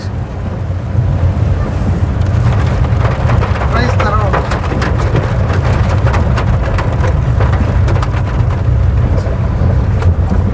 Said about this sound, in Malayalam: പുറത്ത് നല്ല മഴയുണ്ട്.